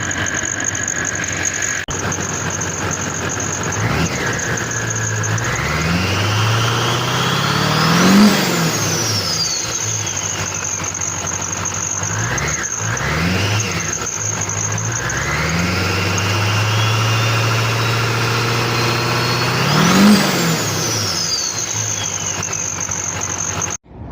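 Duramax diesel truck engine revving loud and close, with two long climbing revs that surge and fall back to a steady idle, turbo whine rising over the deep diesel rumble.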